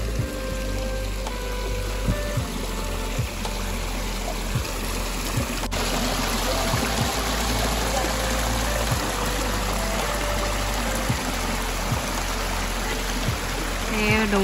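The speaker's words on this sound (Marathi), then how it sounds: "वरून डोंगरातून मस्त पाणी येतंय" Small waterfall stream tumbling down from the hills in the Konkan countryside, a steady close rush of flowing water with a faint low hum running underneath throughout.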